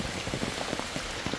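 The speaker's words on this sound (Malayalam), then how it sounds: "മഴ നല്ലോണം കൂടി." Heavy rain pouring down, a dense, even hiss of drops pattering on surfaces, steady and close with no pauses.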